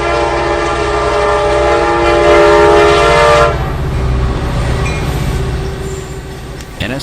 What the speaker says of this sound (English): NS L12 is a local, returning from Springfield, Ohio, to Reed Yard in Middletown, Ohio.